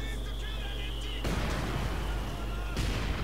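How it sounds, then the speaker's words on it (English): Mortar and artillery fire in Company of Heroes 2, a World War II strategy game, heard as two loud booming impacts over a constant battle-noise bed, close and heavy. "I think the mortar will destroy it eventually."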